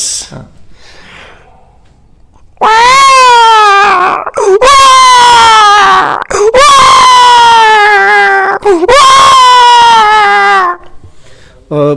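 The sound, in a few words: voice imitating a baby crying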